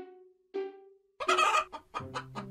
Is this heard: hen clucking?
yes